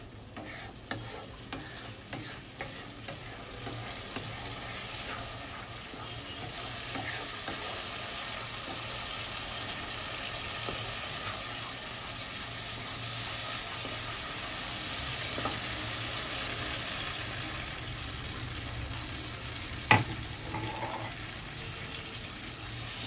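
Pointed gourd korma cooking in a pan as hot water goes in, a steady low sizzle and bubbling hiss with faint stirring scrapes and one sharp knock near the end.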